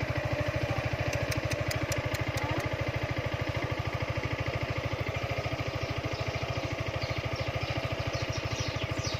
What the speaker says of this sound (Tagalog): puro gas-gas yan lang sa motor